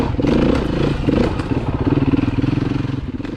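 A heavy four-stroke 390 motorcycle runs close by on a group trail ride, its engine loud and pulsing, rising and falling with throttle, with rattling and thumps over the rumble.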